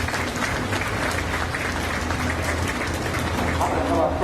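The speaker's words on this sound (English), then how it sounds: "Let's give them a round of applause." Sustained applause from the crowd at a county fair beef breeding and market show, steady dense clapping filling the whole stretch, with some voices mixed in.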